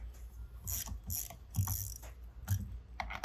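Bolts on a Sterlitech Sepa membrane holder being loosened, giving bursts of ratcheting, metallic clicks in several short runs, fairly close and moderately loud with no talking.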